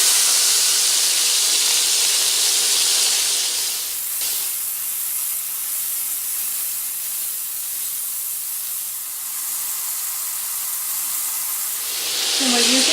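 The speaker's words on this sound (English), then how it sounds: "There's a fair amount of splatter going on, so this keeps us nicely removed from that." Beef pieces searing in hot bacon grease for beef bourguignon, a loud steady sizzle and hiss with crackling splatter, continuous throughout, briefly shifting as the meat is turned with tongs.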